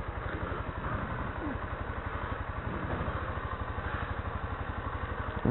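A Yamaha Crosser 150 motorcycle idling on a road in Nova Friburgo, its steady low single-cylinder thrum pulsing evenly and close throughout, with faint talk in the background.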